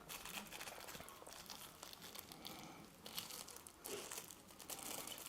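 Cling film crinkles softly as it is peeled back from a rolled chicken roulade with two types of mushrooms, a quiet continuous rustle with small crackly bursts.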